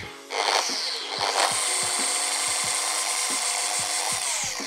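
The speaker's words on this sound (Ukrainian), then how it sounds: "ви побачили, як і ход ексцентрика, так і шліфувальні дії машинки" An eccentric orbital polishing machine with a 15 mm throw spins up and runs close by, giving a loud, steady high-pitched whine with a faint rhythmic ticking underneath.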